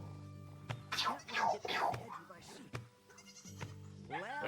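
Sheep in a herding video game bleat several times in wavering, nasal cries, close and clear over a constant game background hum, with a scratchy shuffle between calls.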